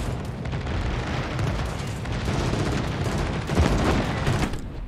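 Naval gunfire in World of Warships from the cruiser Zhao during a ranked battle: a continuous deep rumble of booming shots and blasts, dense and fairly loud throughout, with heavier bursts near the end.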